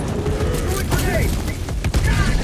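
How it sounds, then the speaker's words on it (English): A grenade explodes in Helldivers 2 amid a busy firefight, with sharp booms and bursts of gunfire crowding together under voices talking close by. "Throwing grenade."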